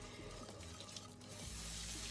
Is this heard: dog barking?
no